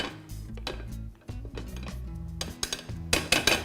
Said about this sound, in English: Place it right down into the middle of the chocolate and use a spatula, a smaller spatula,